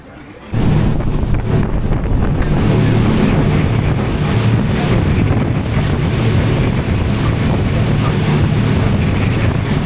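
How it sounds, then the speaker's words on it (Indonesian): A boat cruises along Caribbean beaches off Antigua, with a loud, steady rush of wind buffeting the microphone over the churn of water and the engine's low drone, continuous after a sudden start. "Jadi kita bakal kelilingnya naik kapal ini."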